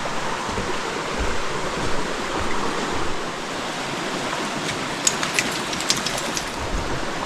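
A stream flows along a lush wooded trail, giving a steady broadband rush of water at an even level for several seconds. A few faint higher ticks come in near the end.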